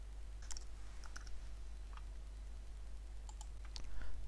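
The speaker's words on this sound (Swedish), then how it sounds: "Jag klickar på Kom igång-knappen." Sparse computer mouse clicks, a few single and double clicks spread across a few seconds, quiet and close against a low steady hum.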